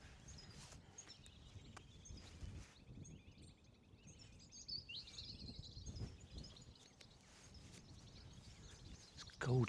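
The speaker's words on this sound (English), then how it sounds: "Goldfinches calling." Goldfinches call in bright twittering bursts from moderate distance in countryside at Mottistone, mixed with other birdsong and some nearby rustling and movement noise.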